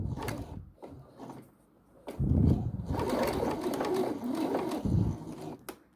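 Sewing machine doing short back tack stitches during a garment repair, close bursts of mechanical whirring separated by brief pauses and small clicks, stopping and restarting several times.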